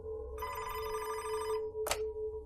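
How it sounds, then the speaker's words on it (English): A desk telephone rings with a loud, buzzy electronic tone lasting over a second, then a short sharp click or second burst follows in a quiet room. "Gerzib's phone rang at his desk, so he answered it"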